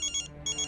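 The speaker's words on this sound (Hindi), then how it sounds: "भाभी, आपका फोन बज रहा है" A mobile phone ringtone chirps in two quick bright electronic bursts with a short gap between them, clear and steady at moderate volume.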